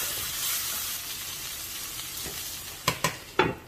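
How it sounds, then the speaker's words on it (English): Zucchini noodles fry with browned ground beef in a low-carb meat sauce, giving a steady close sizzle, with a few sharp spatula scrapes and clacks near the end. "It's gonna get a really good flavor when you let it mix in with the meat and fry up"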